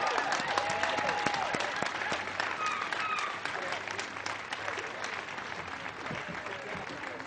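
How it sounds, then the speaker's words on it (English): Audience applauding at an outdoor rally to close the Vermont Yankee nuclear plant, a dense steady clatter of many hands with some whistles and cheers, fairly close, tapering slightly toward the end, with voices mixed in. "Would you kindly put your hands together for Fennebo, please?"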